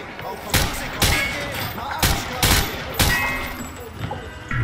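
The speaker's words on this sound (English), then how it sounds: "Grab that weapon off the table and fire at the targets behind you." Weapon fire at range targets in the video game Call of Duty Modern Warfare 2, several loud, separate shots spaced roughly half a second to a second apart, close and punchy, over a steady background hum.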